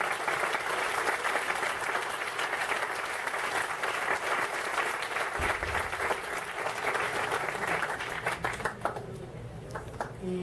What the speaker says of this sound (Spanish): Un aplauso para todos ustedes por esta participación.